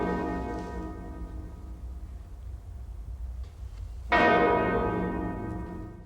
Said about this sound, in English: this weird bell starts going off.